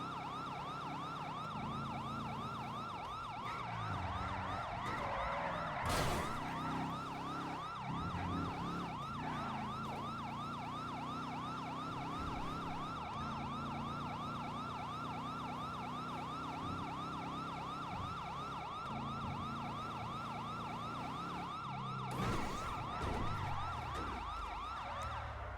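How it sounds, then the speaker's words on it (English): Emergency vehicle sirens wail continuously and loudly, a repeating warble with a steady cycling rhythm running the whole time, layered over traffic and engine rumble, with a couple of brief loud bursts. "Sirens sound a bit different."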